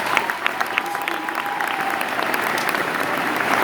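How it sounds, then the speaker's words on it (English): An audience claps steadily after a speech, giving a dense, sustained patter of many hands at moderate distance with a few faint voices mixed in. "We give one more round of applause to my man right here."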